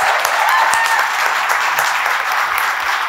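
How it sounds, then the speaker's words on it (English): Steady audience applause for panelists at a manufacturing happy hour held at a brewery, a dense continuous patter of many hands clapping close by for about three seconds. "let's round of applause for our panelists."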